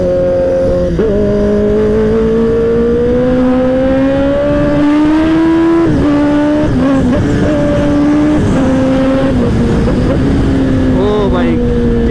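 A Kawasaki superbike (ZX-10R) engine revs steadily at high pitch during a road race, its tone rising and dipping with throttle changes, loud and close, with a person talking over it.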